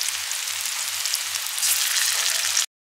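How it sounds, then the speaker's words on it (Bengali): Onion, cumin, ginger, chili and garlic pastes fry in mustard oil for a mutton curry, a dense steady sizzle close up with faint rhythmic stirring beneath, no voices, ending abruptly. "পেঁয়াজগুলো লাল লাল করে ভাজা হয়ে গেছে। এবার দিয়ে দেবো জিরে বাটা"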